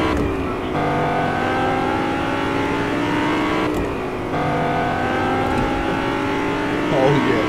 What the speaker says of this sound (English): download Fortnite just to drive the cars around